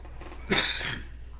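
A single short, sharp sneeze from a person during a sports podcast, a sudden burst standing out against quiet room tone.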